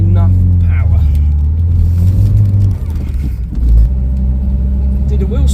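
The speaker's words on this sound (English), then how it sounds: "Did a wheel spin." A Talbot Express camper van with a small petrol engine spins a wheel, giving a loud, close engine roar and rumble that surges partway through, with voices talking over it.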